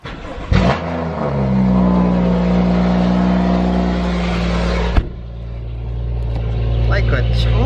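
A BMW F32 car engine cranks and fires, settling into a loud, steady idle with a rumbling low hum, then a brief blip before running on.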